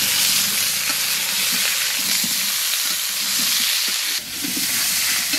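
Potatoes and pointed gourd (parwal) fry in hot oil, a steady loud sizzle with occasional stirring clinks, close up and without talk.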